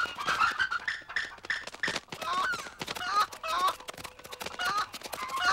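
Chickens cluck and squawk continuously in a busy, overlapping chorus, close and lively, with occasional honk-like calls mixed in and no speech.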